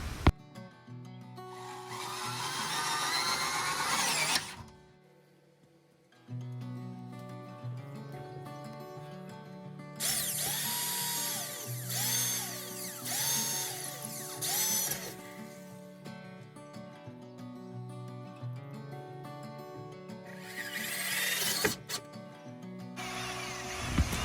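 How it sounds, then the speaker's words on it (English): A power drill whirs in repeated bursts while pre-drilling holes and driving screws in a Ford Transit Connect camper van, high buzzing spells with pauses between them, close by, against steady background music. "you see me pre-drilling the hole and then I go back and screw it in with a screw"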